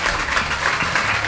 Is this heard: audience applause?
yes